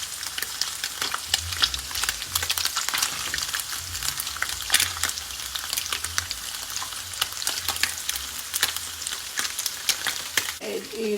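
Pieces of spleen (meusa) for a Sicilian sandwich fry in a pan with a dense, continuous crackling sizzle and scattered sharp pops, close and steady throughout.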